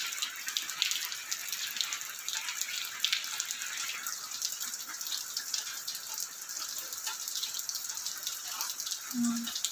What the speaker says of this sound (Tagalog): Grabe yung patak ng ulan